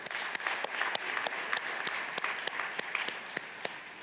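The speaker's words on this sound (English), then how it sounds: "let's give everybody a round of applause" Steady applause from a convocation audience, many hands clapping continuously with a few sharper claps standing out, moderately loud.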